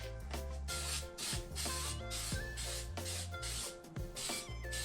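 A steady hiss of spray adhesive from an aerosol can on a turbo manifold being heat-wrapped, with short breaks between bursts, close to the microphone and loud over a background of clatter.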